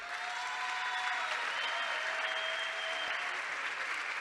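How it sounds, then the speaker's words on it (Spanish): An audience at a conference on urban habitat policy claps in sustained, dense applause that holds at an even level for several seconds, with no speech over it. "un aplauso por favor a él."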